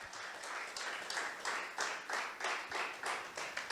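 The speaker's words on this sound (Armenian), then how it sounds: "եկեք իրանց ծափարենք" Steady applause from a church audience, a dense, even patter of many hands clapping throughout with no break, fairly loud and close.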